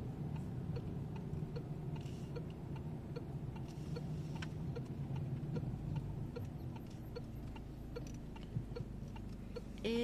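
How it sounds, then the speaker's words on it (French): A car's turn signal ticks in an even rhythm inside the cabin during a driving lesson, quiet clicks running over the low hum of the idling engine and road. "Contrôle, clignotant."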